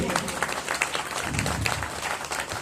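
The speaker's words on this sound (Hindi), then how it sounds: "तालियां कमजोर है आप लोगों की" An audience at a Hindi poetry recital applauds with sustained, fairly dense clapping, a faint voice or two mixed in beneath the clapping.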